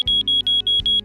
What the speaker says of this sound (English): The Luminex Sheath Delivery System has an audible alarm that sounds to indicate an issue.